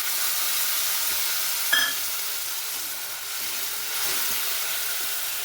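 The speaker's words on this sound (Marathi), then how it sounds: "त्याच्यामध्ये ते उरलेलं जे टमाटरचं किसून घेतलेलं होतं टमाटर ते टाकायचं" Grated tomato goes into hot oil with a small splash and then a steady, even sizzle as it fries, close and continuous with no talk.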